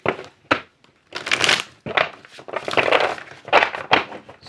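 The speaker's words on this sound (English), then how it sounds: "So we're going to just shuffle this a couple of times." Close riffling shuffles of a tarot card deck, several bursts of rapid flapping with brief pauses and a few soft thumps between.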